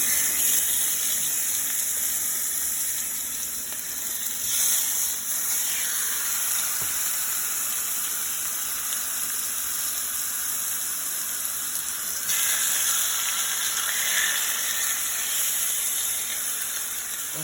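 Pork chops sautéing in a cast iron skillet, a loud, steady sizzling hiss that runs without a break and swells briefly twice, with no talk.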